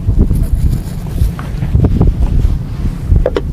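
Breeze blowing at an outdoor fishing spot, a steady rushing wind buffeting the microphone with low rumble and soft gusts throughout, no talk.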